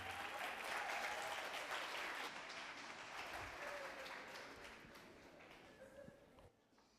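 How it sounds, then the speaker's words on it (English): Audience applause at a student leadership awards ceremony, a dense crowd clapping loudly at first and then gradually thinning and fading over several seconds before stopping. "A round of applause, please."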